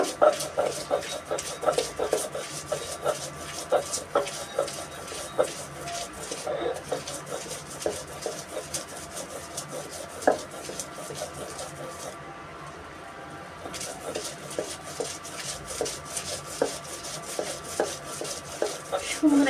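Moringa leaves being ground by hand on a shil-pata grinding stone for a bhorta, a steady close rubbing and rasping scrape with small knocks, continuing under a low background murmur.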